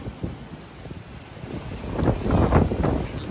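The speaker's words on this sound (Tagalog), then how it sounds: "Malakas na po yung hangin ngayon dito sa Manila City" Gusty typhoon wind at Manila Bay, Manila, buffets the microphone, a low rumbling roar that swells louder toward the end, with no other clear sounds.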